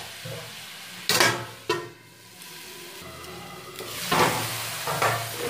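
Spinach masala (palong) cooks in a pan with a soft sizzle under the scrape of stirring and a few sharp clinks of utensil on metal, close and fairly quiet.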